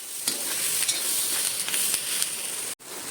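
Coriander seeds and Byadgi chillies roasting in a pan for a chicken curry masala, giving a bright close sizzle with light stirring ticks, ending in an abrupt cut.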